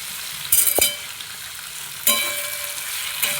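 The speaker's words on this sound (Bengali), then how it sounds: "দিয়ে আলুটা খুব ভালোভাবে কষাবো" Potatoes fry in a pan with ground coriander and cumin, a steady close hiss of sizzling oil with a few sharp stirring scrapes and bursts, no voices.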